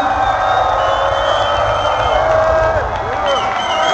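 A packed club crowd at Manchester Warehouse Project roars and cheers continuously, a dense, loud wall of whoops and shouts with high whistles cutting through, sustained throughout.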